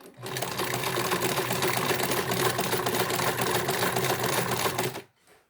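A sewing machine stitches black fabric and bias binding for a mask pouch, a fast steady mechanical whir close up, running continuously for about five seconds before stopping abruptly.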